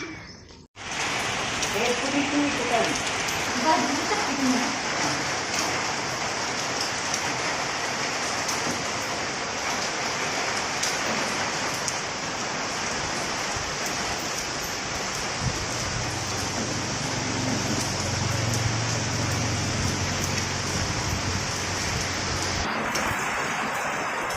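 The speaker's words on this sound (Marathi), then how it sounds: "एवढा मोठा पाऊस सुरू झाला की इकडचे डोंगर पण दिसायचे बंद झाले" Heavy monsoon rain pours down steadily among hills and trees in a dense, continuous roar, with a low hum joining near the end.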